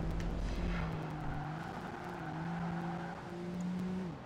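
A TVR Tamora races in the video game Project Gotham Racing 2, its engine rising through revs and shifting gears with brief tire squeal, loud and continuous with no talk.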